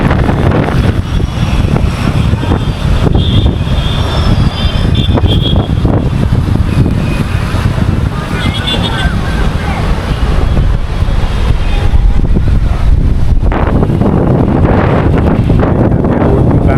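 Loud, constant roaring wind of a dust storm in Ahmedabad buffets the microphone with heavy rumbling gusts throughout, no break in the blowing.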